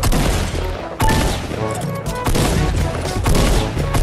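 Gunfire in Fortnite hammers out in rapid, loud, close bursts, with sharp repeated shots and brief gaps between volleys.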